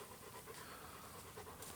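A dog on an Oklahoma ranch pants in a steady quick rhythm, faint and close, without talk.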